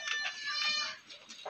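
A Kota cross goat at a goat farm gives a few faint, wavering bleats in short bursts, fairly distant and quiet against a hushed background.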